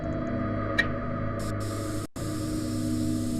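A blood-revealing spray in the crime-scene video game CSI Dark Motives hisses in a short burst, followed by another brief spritz and a soft tick, all over a steady electronic hum with no talking.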